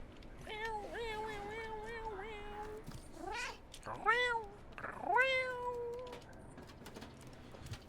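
A kitten meowing repeatedly, a series of drawn-out, rising and falling cries at close range, several in a row with short pauses, over quiet outdoor background noise.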